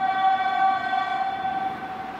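Horn or whistle of a train on the Trieste to Vienna railway line, a steady sustained tone with harmonics held for about two seconds, loud and continuous, fading slightly toward the end, with no talking.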